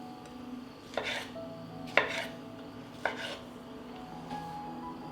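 Knife chopping washed, cored tomatoes into large pieces on a board: three or four distinct, evenly spaced cuts about a second apart, moderately close, with a low steady background hum and no talking.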